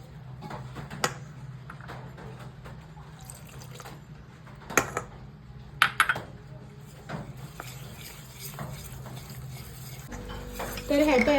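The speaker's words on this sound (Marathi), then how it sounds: "हें आमकां दूध घालून मिक्स करून घेवपाक जाय" Eggless sponge cake batter being mixed with milk in a bowl, soft wet stirring with scattered spoon clinks and scrapes, close and fairly quiet, with a brief louder scrape at the end.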